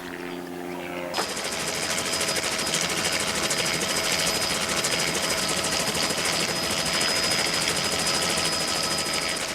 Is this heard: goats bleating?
no